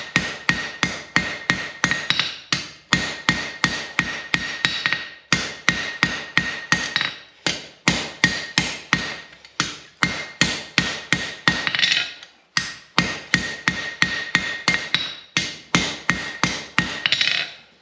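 A blacksmith's hammer pounds hot metal on an anvil during forging, using the round and flat faces in turn: steady rapid blows in bursts of about a dozen, separated by short pauses, close and ringing, with no talking.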